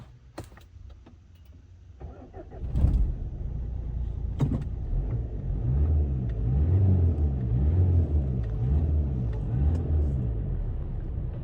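Renault Scenic 1.5 dCi diesel engine cranking and catching after a fuel filter change, a few clicks first, then a loud start that settles into a steady, lumpy idle rumble close by.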